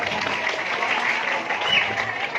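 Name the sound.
audience applause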